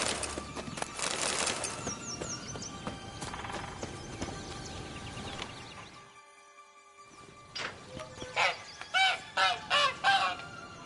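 Caged goose-like fowl honking in The Witcher 3: Blood and Wine, several loud rhythmic honks near the end amid game ambience with hooflike clip-clop and bird calls, no speech.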